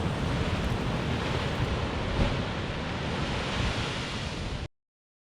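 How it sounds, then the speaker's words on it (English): Rough North Sea surf breaking along the shore at Cromer, Norfolk, a loud continuous roar of churning waves with wind buffeting the microphone, steady and unbroken until it cuts off abruptly near the end. "you can see that the sea is still quite rough, following yesterday's strong winds"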